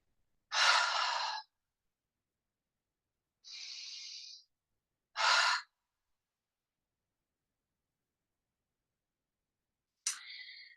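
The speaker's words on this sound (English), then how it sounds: "Let's take a couple of letting go breaths, inhaling through the nose and exhaling through the mouth." Four separate breaths during a seated yoga practice, with slow inhales through the nose and airy exhales through the mouth, close and clear, separated by silent pauses.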